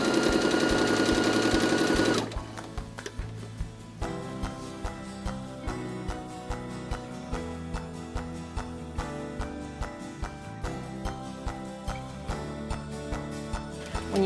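A sewing machine stitches a tote bag in a run of rapid, even mechanical clatter after a brief louder burst, close and steady, with no talk.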